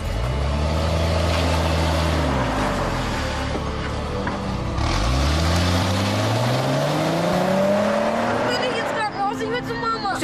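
A car engine drives to the hospital, loud and close, revving up, easing off, then accelerating again in a steady, continuous drone.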